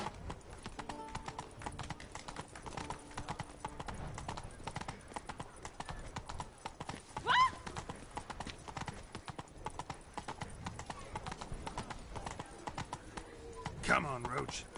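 Roach, the horse in The Witcher 3: Blood and Wine, gallops in a continuous rhythmic clip-clop of hooves, with someone speaking briefly over it.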